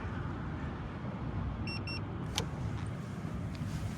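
A Segway ZT3 Pro electric scooter climbs a 21% incline, giving a steady, loud rush of wind and road noise throughout, with two short electronic beeps partway through and a brief click soon after.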